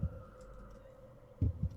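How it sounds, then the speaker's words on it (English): Heartbeat ambience from the Minecraft game Decked Out thumps in low double beats over a steady hum, close and moderately quiet, with no speech. "It does sound like my heartbeat is getting faster"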